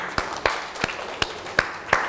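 Scattered, sparse hand claps by children, about six sharp claps at irregular intervals over a soft background.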